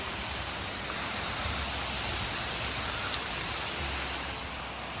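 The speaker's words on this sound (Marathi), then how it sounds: "किती मस्त आवाज येते पावसाचा अगदी सळसळ सळसळ" Steady hiss of rain falling continuously on lush green village meadows among hills, even and unbroken throughout, with a couple of faint clicks over the wash of sound.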